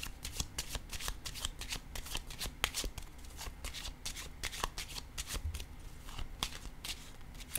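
Tarot cards shuffled by hand in quick, steady riffling bursts, close and fairly quiet, continuing without pause and no talking.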